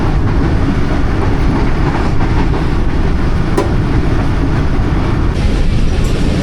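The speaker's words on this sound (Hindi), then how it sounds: "और 42 डाउन आ रही है जी कराक्रम एक्सप्रेस" The Karakoram Express rumbles loudly and steadily into Shahdara Bagh Junction, a dense close roar of wheels and carriages that never lets up.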